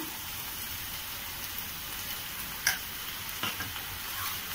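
Ginger garlic paste sizzles and fries steadily with softened onion in a pan, a continuous close crackle with a couple of brief stirring knocks.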